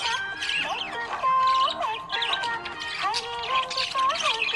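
A happy budgie chirps in a quick run of bright, whistling tweets and warbles, fairly close and steady, with no other sounds.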